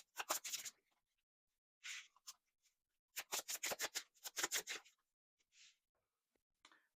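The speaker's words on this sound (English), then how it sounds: "So I'm going to get these shuffled, lay out our first set of cards" Tarot cards being shuffled by hand, several short bursts of riffling and flicking separated by quiet pauses, close and crisp.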